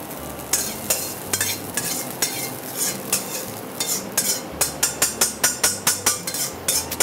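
Rice being stir-fried in a wok, with a metal spatula scraping and clanking against the pan in a quickening rhythm of sharp strokes over a continuous sizzle, close and fairly loud.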